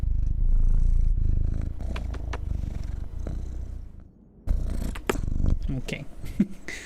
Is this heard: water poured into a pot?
no